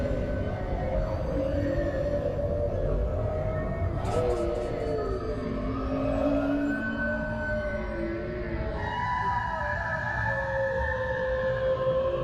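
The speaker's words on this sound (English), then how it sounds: "first there was the sound of the whale vocalizations, which we expected" Recorded whale vocalizations: long gliding moans and tonal calls rising and falling over a steady underwater hiss, moderately loud and continuous.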